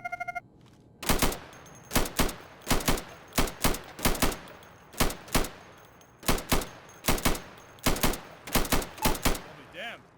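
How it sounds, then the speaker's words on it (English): Rapid gunshots ring out in quick pairs in a firing booth in the Insurgency video game, about sixteen sharp cracks spread over ten seconds as targets are hit, loud and close, with no talk over them. "Go over to the firing booth. Take down those targets as quickly as you can."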